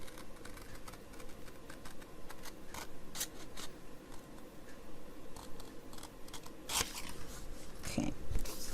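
Scissors cutting out a paper heart up close, with a quick run of crisp snips and clicks that grow denser and louder toward the end.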